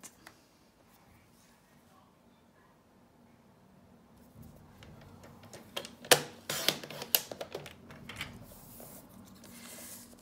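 A paper trimmer slices plain patterned craft paper, producing a series of close, sharp scraping and clicking sounds in the second half after a quiet stretch.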